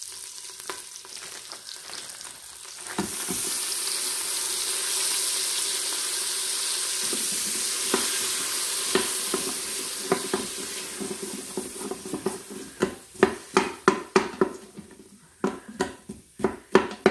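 Frozen onions and peppers dropped into an Instant Pot on sauté burst into a loud, even sizzle that fades gradually, followed by a string of sharp scraping and tapping strokes from stirring.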